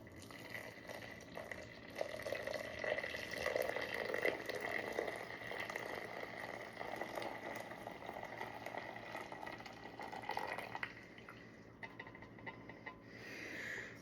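Hot maple syrup from a boiling pot trickles through a filter, a soft continuous liquid patter and drip sound at close range, fading quieter toward the end.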